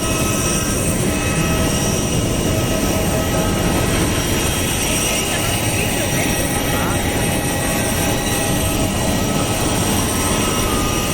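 Jet aircraft at an airport during refuelling through a thick yellow hose, a loud steady roaring engine and whine filling the whole stretch, with a voice speaking over it.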